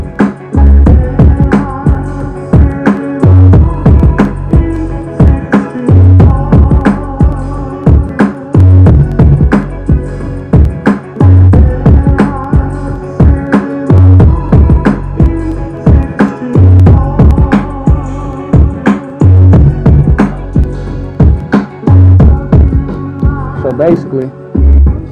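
A hip-hop beat with a looped sampled hook, punchy hard drums and booming 808 bass, played loud and steady in a repeating groove with no talking over it.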